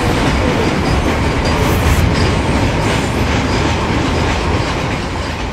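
An NS train rushes past at full speed on its tracks, a loud, steady roar of rail noise with a rhythmic clatter of wheels that holds close and constant for several seconds, no voices over it.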